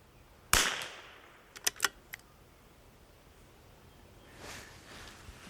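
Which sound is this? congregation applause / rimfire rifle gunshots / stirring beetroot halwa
rimfire rifle gunshots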